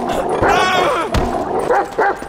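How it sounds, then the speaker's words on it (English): Chop, the dog in Grand Theft Auto 5, barks in a rapid series of loud, close, sharp barks and yips in the game. "There's a good dog."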